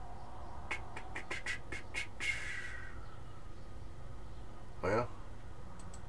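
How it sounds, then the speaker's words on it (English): Chickens clucking at a chicken pen in Farming Simulator 19, a quick series of short clucks followed by a longer squawk and a later loud call over a low background hum. "must be a chicken pen there"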